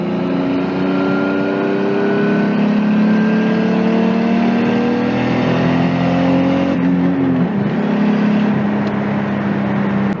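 An RB20DET-swapped Nissan S13 240SX, engine revs climbing steadily as it pulls into boost, a loud, close in-car drone with rising tones, then a brief dip as it shifts before pulling again.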